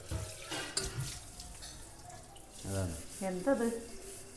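Water runs softly from a tap in a sink during dishwashing while a couple of people talk quietly nearby.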